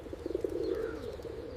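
Pigeons coo in a low, soft, rolling murmur, one continuous throaty call with a faint fluttering pulse at the start, fairly close and alone.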